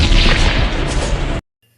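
A single loud, sharp gunshot effect from a film recap bursts close, with a brief rumbling tail that cuts off abruptly into silence.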